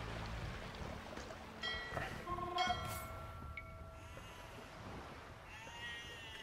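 Sheep bleating in the Age of Empires 2 video game, with a few short, faint bleats layered over steady game ambience and scattered interface chimes.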